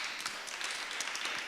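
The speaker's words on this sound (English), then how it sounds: "I think they deserve a round of applause." Applause from a conference audience for departing panelists at a Rome event on children, a brief, even wash of many hands clapping, fairly quiet and heard alone with no talk.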